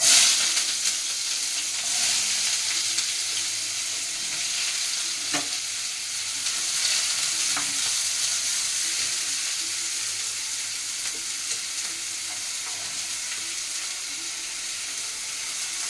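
Eggplant fries in a hot pan with a steady, close sizzle, and stirring scrapes and brief splashy movements break through now and then with no talking.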